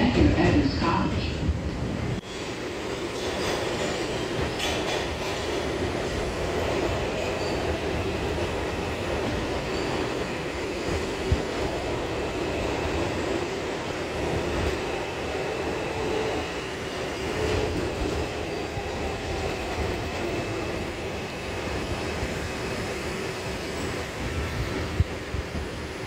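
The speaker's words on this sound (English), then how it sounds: "This is a Brooklyn College Flatbush Avenue-Brooklyn, 5 train." R142 subway train on the IRT Nostrand Avenue Line at President Street station in Brooklyn, a steady moderate rumble of the train running through the station with hum and a faint squeal.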